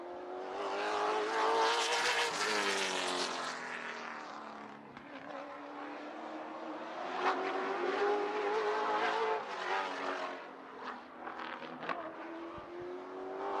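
The 31 race car roars around Slinger Speedway on a qualifying lap, its engine rising and falling through gear and throttle changes as it passes, loud and close at first, then fading and swelling again.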